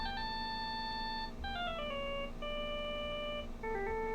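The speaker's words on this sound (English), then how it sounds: "All of a sudden, the phone began to ring." A cell phone rings in the Phoenix Wright: Justice for All video game, a steady electronic melody of held and stepping tones that plays on throughout, with no voices over it.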